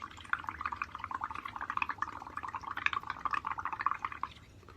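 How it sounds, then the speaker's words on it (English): Bubbles blown through a straw into a cup of liquid for bubble painting, a steady, busy stream of small gurgling pops lasting several seconds, close and fairly quiet, with no one talking over it. "I'm going to use my end to blow bubbles"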